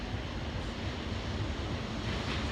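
Ocean waves wash steadily onto the shore in a continuous broadband roar, with a constant windy rush and no voices.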